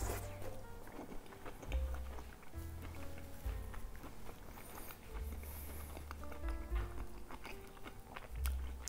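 Someone eats hot braised young cabbage with cheese, creamy sauce and bacon, giving close, repeated chewing and biting sounds with soft mouth noises in an irregular rhythm at a low level.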